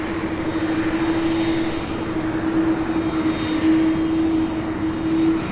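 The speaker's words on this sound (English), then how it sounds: "This MD-11 heading to Oakland, California." UPS MD-11 jet airliner at Louisville airport, engines producing a loud, steady roar with a constant tonal whine throughout, no voices.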